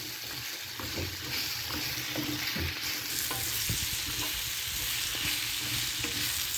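Butter and a little oil sizzle and crackle steadily in a hot pan, close and continuous, with occasional stirring clicks and no talking.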